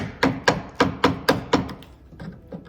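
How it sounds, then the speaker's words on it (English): A chisel driven into the wood of a swivel chair, struck in a steady run of six sharp, close knocks, then a pause and a few softer taps. "I'll just get a chisel and get the rest of that wood out of the way"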